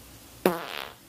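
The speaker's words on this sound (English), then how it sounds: "I love how they timestamp their favorite farts." A single short fart, abrupt and fairly loud, ends in a brief raspy tail after a moment of quiet.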